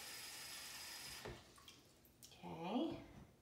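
Hot water pours briefly into a bowl, a short splashing trickle near the end after a quiet stretch, with a voice speaking in the room.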